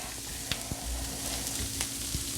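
Peppers and onions sizzle on a flat-top griddle, a soft continuous hiss with a few sharp pops and spatula taps, close but fairly quiet, alone without talk.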